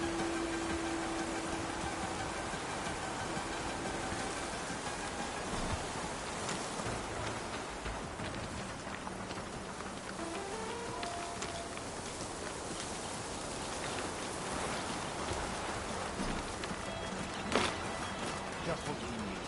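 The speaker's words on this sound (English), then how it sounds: "Wind and rain." Wind and rain in the video game Horizon Forbidden West make a constant broadband rush throughout, with a faint tonal cue and a soft knock near the end.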